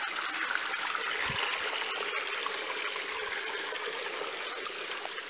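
Creek water over a sandy bottom flows and trickles steadily nearby, a continuous bright rushing hiss with a few faint low thumps underneath.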